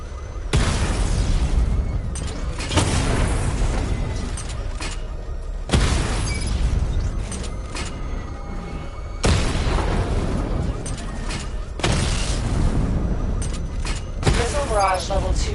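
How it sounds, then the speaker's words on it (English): Repeated booming explosions from a video game missile barrage destroying targets, several heavy blasts rolling out over a dense, noisy background, with a voice talking over them. "Charge the missile barrage to level 2 to destroy up to 4 targets at once."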